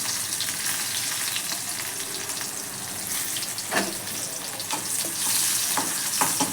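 Crushed garlic sizzles and spits in hot oil in a wok, a steady broadband frying hiss with a few sharper crackles and stirring scrapes toward the end.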